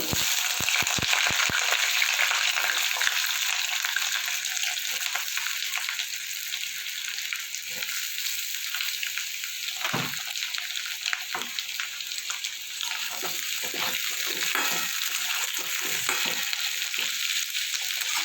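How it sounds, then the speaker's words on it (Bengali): Potato pieces dropped into hot oil, a loud, dense crackling sizzle that starts with a few sharp splashes and carries on steadily, close up with occasional stirring bursts and no talk. "তেলটা আমার গরম হয়ে গেছে আলুগুলো আমি ছেড়ে"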